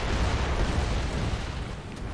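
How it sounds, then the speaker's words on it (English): Mortar shells burst in a Gears of War 3 firefight, a dense, continuous low rumble of overlapping explosions rolling on steadily without pause. "Mortars incoming!"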